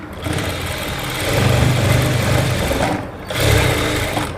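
A sewing machine stitches cloth in loud, close, steady whirring runs, pausing briefly partway through before starting up again.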